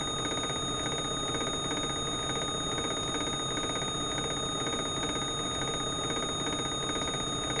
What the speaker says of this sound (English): Stall alarm.